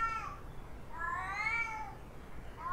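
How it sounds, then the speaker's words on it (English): A cat meows in the horror video game Erie, one short call followed by a longer drawn-out meow, fairly close and clear over a low background hum. "It's a cat!"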